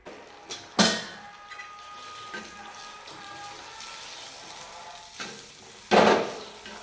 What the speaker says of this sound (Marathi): थोडं तेल टाकलं मी कांदा तळायला